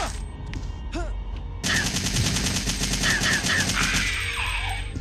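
Rapid automatic gunfire from Resident Evil 3, a steady loud burst of shots running for several seconds after a short stretch of quieter game sounds and tones.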